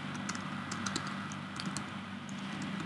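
Keys on a computer keyboard clatter in quick, irregular bursts of typing, close but quiet, over a steady background hiss with no talking.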